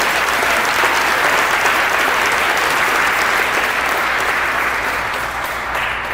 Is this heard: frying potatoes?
no